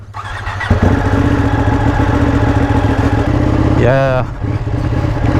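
A 2019 Ducati 959 Corse sport motorcycle with Ohlins suspension rides over an off-road surface, its engine a close, steady throaty rumble with a quick rev rise near the end; someone speaks briefly.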